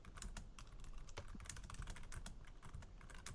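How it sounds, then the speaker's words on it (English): Rapid, steady clicking of fingers typing on a computer keyboard, quiet and close, continuous keystrokes without talk. "Well, while you're typing that,"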